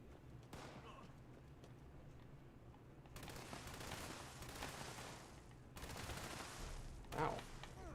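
Bursts of gunfire from a gun with an exploding pattern in Fallout 76, firing in sustained dense volleys with short pauses between, mid-distance and steady, with a voice briefly over the shots.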